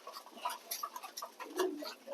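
Pigeons eating feed in a loft, their beaks making quick, irregular, faint clicking taps that scatter unevenly throughout, with no voices.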